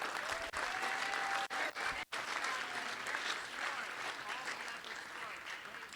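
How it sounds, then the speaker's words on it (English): Sustained applause from a dinner audience honoring Oscar Goodman, a dense wash of clapping that runs steadily through, with brief dips and some voices mixed in. "And a round of applause for Oscar."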